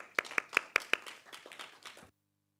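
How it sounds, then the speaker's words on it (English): A small audience claps for a presenter at a research indaba, a few distinct, sharp claps at first that thin into scattered, quieter clapping before stopping abruptly. "Can you give him a round of applause?"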